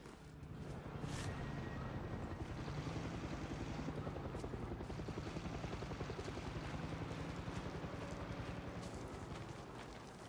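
Helicopter in the video game Far Cry 6, a steady rotor chop that thumps on continuously and evenly at moderate distance for about ten seconds, with no speech.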